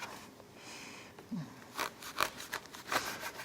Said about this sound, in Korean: 이렇게 잘라서 토막 내서 모양을 내주시면 돼요